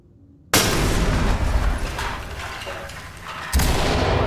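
A grenade explodes in the tactical shooter Ready or Not inside a medical center, a sudden loud boom after silence that rumbles on, followed by a second heavy blast near the end.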